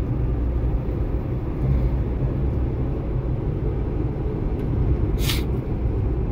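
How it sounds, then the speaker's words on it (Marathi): A Maruti Suzuki Eeco 7-seater CNG van accelerates at around 60 km/h, its engine and road noise forming a steady, loud low rumble throughout, with no speech. "थोडंसं मी तुम्हाला आता पिकअप घेऊन दाखवतो."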